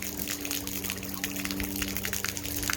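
A Rain Deck splash pad dual nozzle sprays water in a steady, close, rushing hiss with a low mechanical hum underneath, continuous for the whole stretch.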